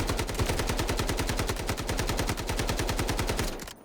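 An OK416 rifle fitted with a muzzle brake fires full auto in Delta Force, a loud continuous burst of fast evenly spaced shots lasting several seconds before it stops sharply.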